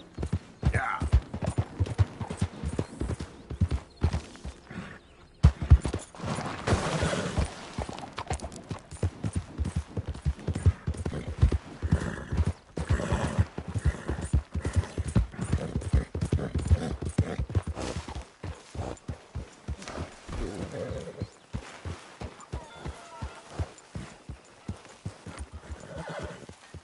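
Rapid clip-clopping hooves and a horse's whinny in a video game over a busy backdrop, with a few voices speaking now and then.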